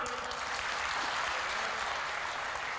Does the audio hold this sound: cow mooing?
no